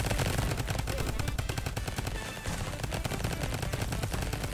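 Dense, continuous automatic gunfire and explosive hits from the Roblox game Flag Wars, including RPG impacts, crackle loudly and without pause in rapid overlapping bursts.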